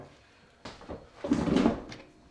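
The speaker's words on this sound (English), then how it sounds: "Nice soft close hinges." Ikea kitchen cabinet door with Blum soft-close hinges swinging shut, a light click followed by a gentle cushioned thud and brief settling rattle, close and alone.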